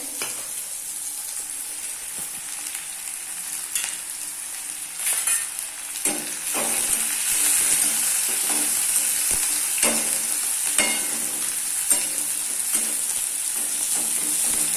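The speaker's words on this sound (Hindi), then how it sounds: "इसके बाद मैं इसमें डालूंगी प्याज, और लहसुन प्याज अच्छे से इनको भून लेना है।" Onion and garlic fry and sizzle in hot oil for chole, a steady loud hiss with frequent scraping stirs of a spoon in the pan, close up and without talk.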